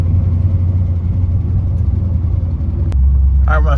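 A 1955 Ford 292 Y-block V8 fitted with a Summit 500 cfm electric-choke carburetor idles steadily with a deep, continuous low rumble, loud and close, with a brief mechanical click near the end.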